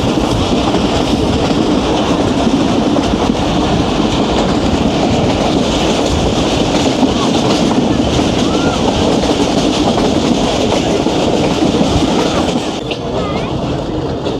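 Passenger train on the Rawalpindi to Havelian line rolling into Taxila station after passing through the Margalla hills, a steady loud rumble of wheels and carriages with rhythmic clickety-clack throughout, easing slightly near the end.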